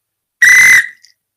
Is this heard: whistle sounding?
yes